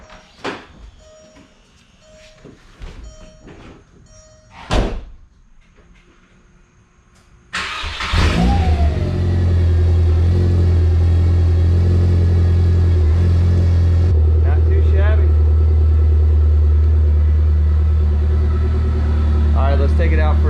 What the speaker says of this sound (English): It's time for a cold start.